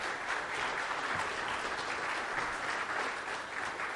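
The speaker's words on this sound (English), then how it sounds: "Can you give them a round of applause?" A church congregation applauds teachers during a Mother's Day service, steady dense clapping from many hands holding at an even level for several seconds with no voices over it.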